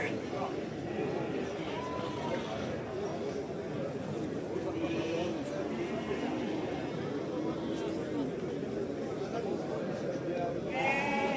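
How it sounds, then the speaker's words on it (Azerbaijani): Lambs bleat at a sheep market, with repeated calls rising over a constant crowd murmur while people talk nearby. "Bax bu quzular. Gördüğünüz kuzular 320 manat."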